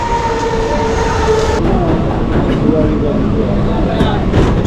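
A train idles and rumbles steadily at a station near Nalasopara, with rail clatter and a faint squeal amid ambient platform noise and murmuring voices.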